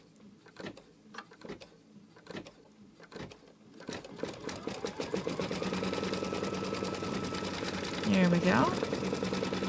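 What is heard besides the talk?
embroidery machine tacking down green fabric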